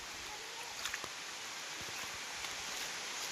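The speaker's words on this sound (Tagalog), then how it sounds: "Naku, ang lakas ng ulan." Heavy rain pours onto a muddy road outdoors, a continuous broadband hiss with a few scattered thumps and knocks, fairly close and even in level.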